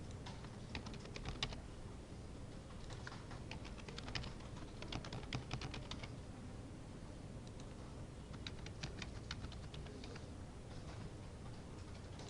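Steady computer keyboard typing continues in quick clustered bursts of light clicks, fairly close, over a faint hiss while names and addresses are entered for a web design HTML lesson.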